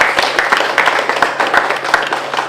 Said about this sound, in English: So a big round of applause for Josh.